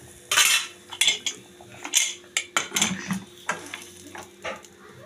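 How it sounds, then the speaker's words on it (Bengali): A pressure cooker lid and whistle being handled and set in place, with a string of sharp metallic clanks and knocks at uneven intervals, near and fairly loud over a low kitchen background. "এবার সিটি লাগিয়ে দেবো কুকারের ঢাকনা"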